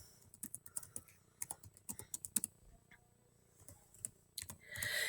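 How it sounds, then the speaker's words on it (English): A website address typed on a computer keyboard, with close crisp key clicks in uneven bursts that end with a brief louder rustle. "you can just type it in"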